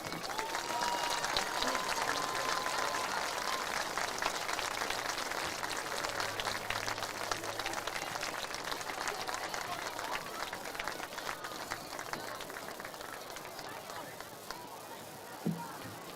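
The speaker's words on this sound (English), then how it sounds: "Please join us in a round of applause as we honor the life of Mr. Dana Riedel." Crowd applause during a memorial tribute at a high school football game, sustained clapping and cheering from a large outdoor stadium crowd, distant and steady, with faint voices mixed in.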